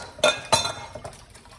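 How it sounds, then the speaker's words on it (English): A whisk clinks and scrapes against a bowl while evaporated milk is beaten into a custard mixture: two sharp, close metallic knocks, then softer, quicker taps fading out, with no talking. "I'm gonna use evaporated milk, about 1/3 of a cup of evaporated milk, and I'm gonna go ahead and whisk this right in"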